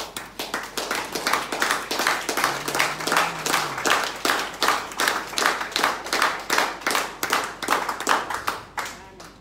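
A church congregation at a Sunday service claps in a steady, fast rhythm of many hands together, loud and close, keeping time for several seconds before stopping abruptly.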